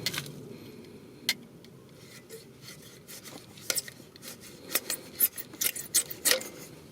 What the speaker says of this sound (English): So I'm just gonna cut it.